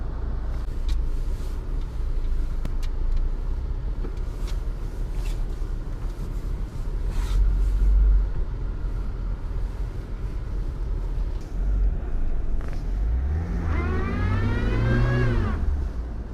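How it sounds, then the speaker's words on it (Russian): A Chevrolet Niva four-wheel-drive SUV driving while its engine strains for lack of power, a steady loud drone and road rumble with a rising whine toward the end. "Мощности мотора не хватает, ей прям тяжело"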